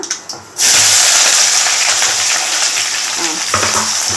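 Chana dal, onion and green chillies frying in oil for masala dosa filling, a loud steady sizzle starting abruptly after brief quiet, with occasional stirring scrapes near the end.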